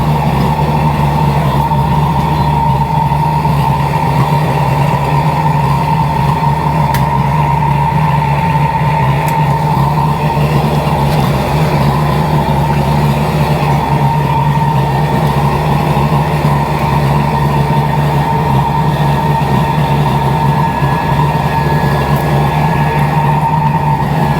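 A CNC milling machine homing its axes gives off a steady, loud mechanical hum and whine that holds constant throughout, with no talking.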